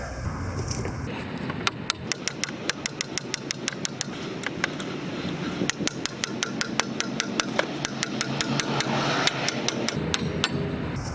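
Repeated sharp hammer blows strike a car's outer tie rod end to free it from the steering knuckle during an inner tie rod replacement, a fast, loud metallic series of clanks with a steady background hum and no talk.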